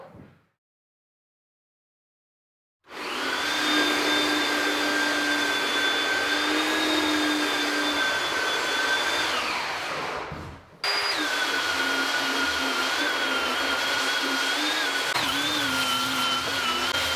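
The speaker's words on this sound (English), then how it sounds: "We're gonna belt sand this floor." A belt sander runs across a floor being refinished in an off-grid bathroom build, a loud steady motor whine that starts after brief silence, drops out briefly near the end, then resumes just as loud.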